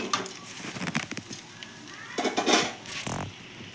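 Fried fish being gently stirred in a pan for a spicy fish fry, with soft scraping and light clinks of a utensil against the pan, intermittent and close over a faint background hiss.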